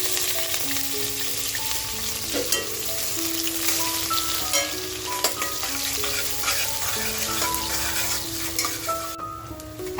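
Chopped onion fries in hot oil in a home kitchen, giving a steady, fairly loud sizzle with occasional stirring clinks and no talking.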